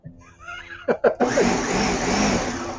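A blender starts up loudly after a couple of short bursts, then runs steadily as a dense, continuous whir that fills the rest of the moment close to the mic, with faint background sounds before it kicks in.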